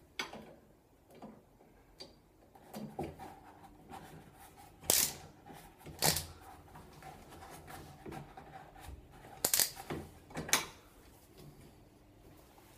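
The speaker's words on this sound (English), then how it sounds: "I'm using this hex screw, hex driver that luckily is compatible" A hex driver works a nut on a door handle during an old-house repair, making soft intermittent ticks and clicks with a few sharper knocks, close but quiet and spaced irregularly.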